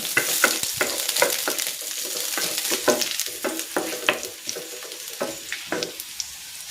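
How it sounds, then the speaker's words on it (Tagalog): Garlic sautés in a hot pan with a bright, steady sizzle and frying crackle, broken by frequent close stirring and scraping knocks from a utensil, and no one talks. "Magigisa na ako ng bawang."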